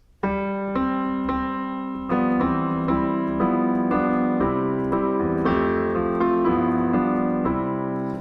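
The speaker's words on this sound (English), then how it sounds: "The version I'm showing you sounds sort of like this" Piano plays a full, moving arrangement of "Hark the Herald Angels Sing" with rich sustained chords and a melody on top, steady and alone with no voices.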